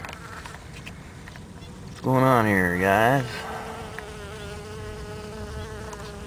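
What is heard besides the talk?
bees buzzing on flying saucer cactus flowers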